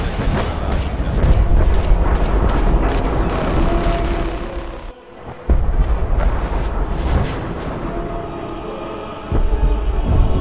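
The Brotherhood of Steel airship explodes in the video game Fallout 4 with a long, loud rumbling roar of blasts and crackles. It dips briefly, then surges back with another heavy boom and fades into sustained rumble.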